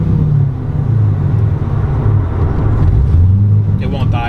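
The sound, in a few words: C6 Corvette Z06 cammed engine idling in neutral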